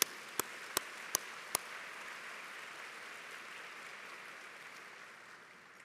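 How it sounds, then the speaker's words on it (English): Audience applause at a community awards breakfast: a steady, moderately distant wash of clapping that holds for several seconds and slowly fades, with a few sharp claps standing out near the start. "can we give them all a big round of applause?"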